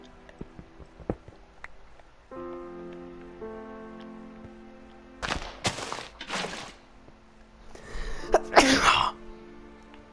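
A single sharp human sneeze bursts out loud and close after quiet Minecraft game music and small clicks, followed by more rustling noise.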